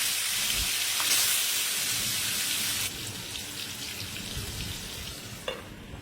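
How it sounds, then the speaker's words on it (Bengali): Marinated fish dropped into hot oil in a pan, a loud, bright sizzle that spits hard at first, then drops to a softer steady frying hiss, with a small clatter near the end. "মেখে রাখা মাছটা তেলের উপর ছেড়ে দেব।"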